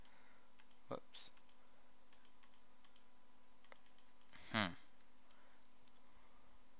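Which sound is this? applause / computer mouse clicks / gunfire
computer mouse clicks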